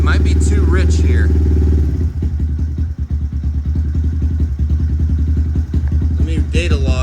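A big bore Honda Grom motorcycle engine idles on fast idle, a loud steady low rumble with rhythmic firing pulses close by, with a brief clatter around the midpoint and a person talking over it at the start and end.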